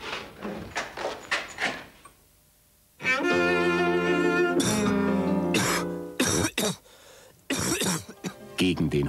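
A few harsh coughs in quick succession, then a pause and a longer stretch of voiced sound, with more short bursts near the end.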